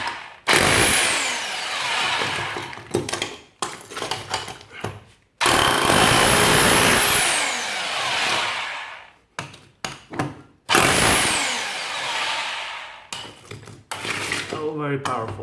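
A Parkside hammer drill with a flat chisel hammers loudly in three long bursts, each breaking off abruptly, with short clattering pauses in between, heard very close.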